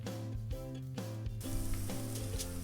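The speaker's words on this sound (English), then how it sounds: "They're starting to sizzle." Swedish meatballs sizzle on a Blackstone griddle in a steady crackling hiss, with a tonal hum and some clatter over it.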